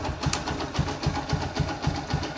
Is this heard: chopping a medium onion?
no